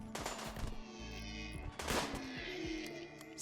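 Volleys of gunfire from a firing squad in the colony game Rimworld, sharp repeated bursts at close range with a short pause, then a second cluster of shots.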